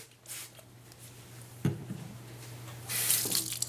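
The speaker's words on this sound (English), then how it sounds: "We'll take it over, we'll rinse it with a little bit of cool water" Cool tap water running over a dental alginate impression during rinsing, a faint, intermittent splash and trickle with a couple of brief louder gushes.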